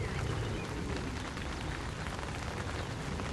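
Rain arriving over a carp fishing lake at Orchard Place Farm, a dense, steady hiss of falling drops that stays loud and even throughout, with no voices.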